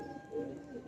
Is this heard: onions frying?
no